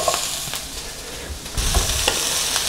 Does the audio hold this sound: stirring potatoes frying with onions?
yes